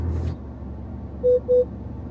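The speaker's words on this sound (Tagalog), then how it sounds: "So ito yung tunog ng sensor sa unahan." Front parking sensor of a 2025 Isuzu MU-X LS-E 4X4 SUV: two short, low-pitched bassy beeps in quick succession, clear over a steady low cabin rumble.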